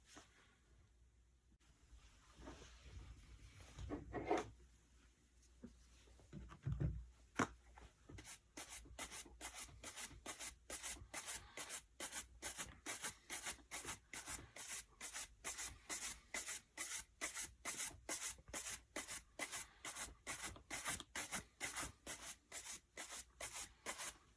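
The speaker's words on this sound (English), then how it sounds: "I'll probably have to sand this." Leather shoe being sanded over a deep scratch, with some handling noise at first, then steady rhythmic back-and-forth rubbing strokes, close and moderately loud, continuing for a long stretch.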